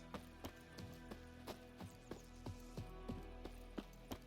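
A horse in the game Witcher III: Wild Hunt walks with steady, evenly spaced clip-clop hoofbeats, moderately quiet and regular throughout.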